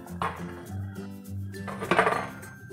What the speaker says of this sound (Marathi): इथे मी एक भांड घेतलंय, यामध्ये हे सगळे आवळे हे घालून घेणार आहे